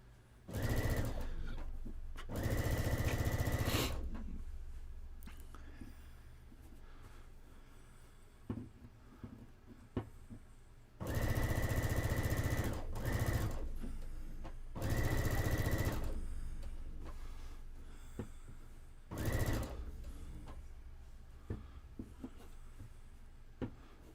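A sewing machine stitches a table runner in several loud, sustained bursts of a few seconds each, separated by quieter pauses with small handling clicks and shuffles.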